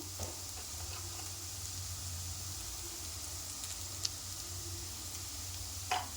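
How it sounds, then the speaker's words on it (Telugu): Ivy gourd (dondakaya) frying in a pan gives a quiet, steady sizzle over a low hum, with a few faint clicks of stirring, including one sharp tap near the end. "ఈ విధంగా ఫ్రై చేసుకోవాలి మధ్య మధ్యలో కలుపుతూ ఇలా ఫ్రై చేసుకోవాలి"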